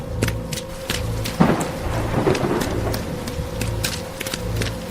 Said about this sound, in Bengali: হঠাৎ আকাশ চিড়ে একটা বিদ্যুৎ চমকালো